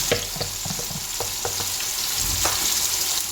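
Steady, dense sizzling of carrots, green pepper and red pepper frying in a pan, with occasional scraping stirs and small pops standing out; close and continuous, no talking.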